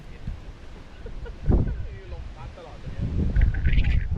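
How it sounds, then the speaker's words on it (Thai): Strong wind buffets the microphone on an exposed cliffside viewpoint in Thailand, with low rumbling gusts rising and falling, loudest near the middle and end, and voices faintly mixed in. "ลมมากเลย"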